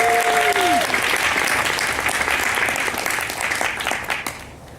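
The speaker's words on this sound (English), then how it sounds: "let's give him a round of applause" An audience claps at an opening ceremony to honor a man who built the event's website. The applause is full and continuous, with a voice briefly heard at the start, and it gradually thins toward the end.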